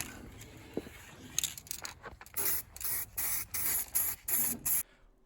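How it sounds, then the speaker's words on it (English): Short bursts from an aerosol can of Edwardian Gray SprayMax paint being sprayed as a base coat in a fire-damaged engine bay, about seven even hissing pulses in a row after some faint handling noises, fairly close. "we decided to do a little base coat painting with some Edwardian Gray Spray Max paint"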